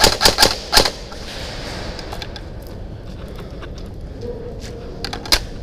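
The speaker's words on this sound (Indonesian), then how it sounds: "Dan sekarang dia tahu posisiku dan nembakin aku." Airsoft guns firing during an outdoor skirmish in a parking lot, a quick burst of sharp snapping shots up front, then scattered single cracks and a faint voice.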